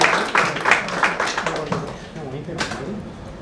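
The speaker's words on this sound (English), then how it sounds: "Please give her a round of applause" Audience applause at a Women's Day celebration event, a burst of clapping from a crowd that starts strong and gradually thins out over a few seconds, with a voice speaking over it.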